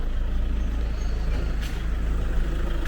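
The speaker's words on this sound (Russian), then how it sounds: "О, а там тот самый мусоровоз." A garbage truck's engine rumbles on a street in Manila, a steady low drone with brief hissing bursts, loud and close, heard without speech.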